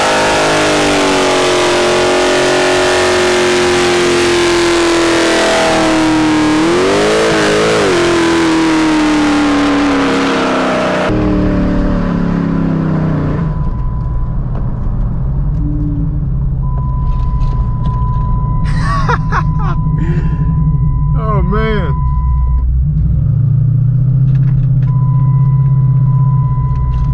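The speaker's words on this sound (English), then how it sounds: "That's how you do a burnout." A widebody Dodge Challenger roars through a sustained burnout at high revs for about eleven seconds, then drops to a rumbling idle with scattered mechanical noises and a faint tone.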